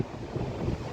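Wind blows across an open rooftop by the sea, a brief steady rushing buffet against the microphone.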